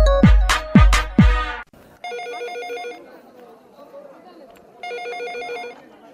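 A telephone rings in repeated electronic bursts, two clear ringing spells separated by a pause, heard right after a short stretch of a voice speaking.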